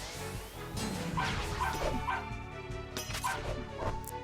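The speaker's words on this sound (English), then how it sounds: "The barking is more shrill than I was expecting" Shrill, yappy dog barking from the video game Dragon Quest Swords, a run of short high yips and bow-wows repeating irregularly over game music and clattering effects, with no talking.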